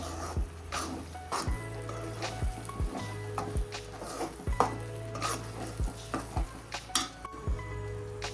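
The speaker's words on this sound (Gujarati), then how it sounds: "આપણે ફરીવાર હલાવી લઈશું।" Vagharelo rotlo, crumbled millet flatbread simmered with buttermilk, being stirred in a pan: repeated scraping strokes of a spoon against the metal come at an irregular, steady rhythm over a low, constant sizzle, close by, with no voices.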